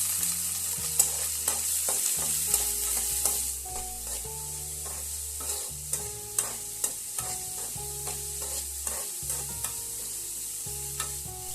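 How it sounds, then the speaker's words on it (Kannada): Curry leaves and two chopped onions frying in a pan for masala dosa filling, with a soft steady sizzle and occasional stirring clicks under a bed of background music. "ಸ್ವಲ್ಪ ಕರಿಬೇವಿನ ಸೊಪ್ಪು, ಹೆಚ್ಚಿದ 2 ಈರುಳ್ಳಿ ಹಾಕಿ ಫ್ರೈ ಮಾಡಿ."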